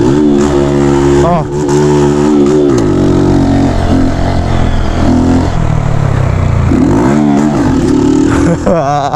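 A motorcycle engine fitted with a rev-limiter cut CDI revs hard and close, loud and continuous, with sweeping rises and falls in pitch as it repeatedly climbs and drops back.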